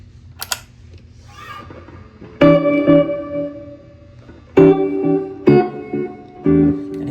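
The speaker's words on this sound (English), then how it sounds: "So if I show you what the delay sounds like" Electric guitar run through a digital delay pedal set to an analog-style bucket-brigade delay: a few plucked chords and notes ring out with soft repeating echoes, played alone and fairly clear.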